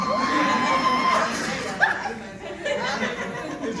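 An audience screams together on cue, a dense wash of mixed voices with shouts and some laughter that holds steady, dips briefly, then swells again.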